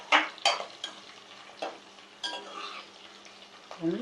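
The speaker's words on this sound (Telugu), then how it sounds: "జీడిపప్పు కాస్త వేగాక దోరగా వేగాక అప్పుడు ఉల్లిపాయ ముక్కలు వేసుకోవాలి" Cashews and onion pieces fry in a pan, giving a faint steady sizzle. Several sharp scrapes and clinks of a spoon against the pan break it up at irregular intervals.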